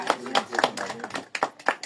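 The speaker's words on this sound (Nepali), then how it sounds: "ताली बजाऊ ताली" Several people clap at a Dashain celebration, quick uneven hand claps mixed with voices nearby.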